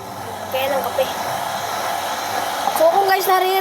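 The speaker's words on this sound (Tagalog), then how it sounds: "ayun po yung tumutunog na yung painitan ng tubig namin." A household electric water heater or kettle running with a steady airy hiss and rumble, a faint rising tone and light clinks over it, with a voice briefly audible nearby.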